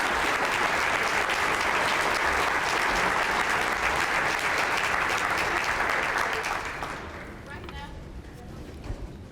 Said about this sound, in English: would please stand and give Elwood Flowers a deeply, deeply deserved round of applause.